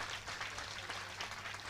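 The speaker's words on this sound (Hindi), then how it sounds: "अपने इस आनंद के प्रति आप आज अपनी तालियां बजाकर स्वयं की सराहना तो कर ही सकते हैं" Audience applause at a Jain religious discourse gathering with Muni Shri Praman Sagar, a steady, dense wash of many hands clapping continuously at moderate distance, with no voices standing out.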